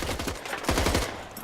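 Rapid SMG fire in Counter-Strike on the map Derailed, short bursts of quick repeated shots, moderately loud under a steady background.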